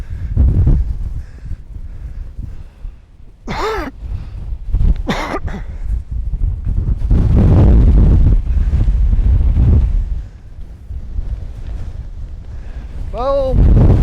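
Strong mountain gusts on a high fell buffet the microphone in loud roaring bursts, with brief shouts and a dog's whine breaking through.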